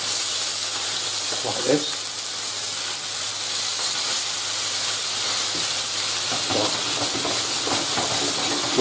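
Salmon and vegetables fry in a pan with a steady, loud hissing sizzle running throughout, close up, with a brief voice speaking over it near the start.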